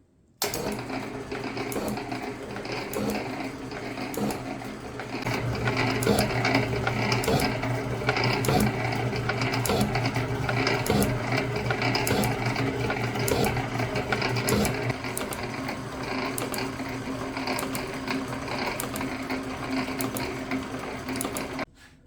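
An Atlas metal shaper driven by a 1/3 horsepower GE motor takes test cuts in scrap metal, giving a steady mechanical hum and grind with a regular clacking stroke that continues throughout, loud and close.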